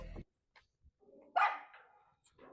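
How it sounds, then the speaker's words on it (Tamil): A few scattered dog barks and a yelp in a quiet setting, sharp and short with silent gaps between them. "என்ன ஃபுல்லா நாய் சத்தமா இருக்குது."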